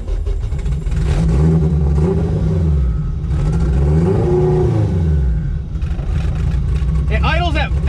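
A turbocharged Honda car's engine revs up and down in repeated rising and falling sweeps, loud and close, with people talking over it.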